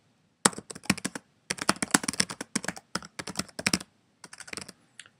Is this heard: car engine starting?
no